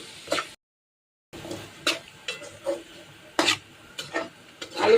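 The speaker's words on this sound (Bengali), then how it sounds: "এখন আমি এই পেঁয়াজের সাথে এটা একটু ভেজে নিচ্ছি" Potatoes with onion and a little salt and turmeric being stirred in a pan, heard as intermittent scraping stirs with faint sizzle, separated by brief quiet gaps.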